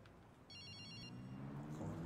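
A mobile phone rings in the video game Sleeping Dogs: one short, bright electronic trill lasting about half a second, over a steady low rumble and background noise that swells toward the end, with no talking.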